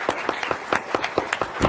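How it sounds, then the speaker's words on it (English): Scattered hand clapping from an audience after a panel discussion, a handful of sharp claps falling in a loose, uneven rhythm over a couple of seconds, moderately close and fairly thin. "a round of applause for our panel"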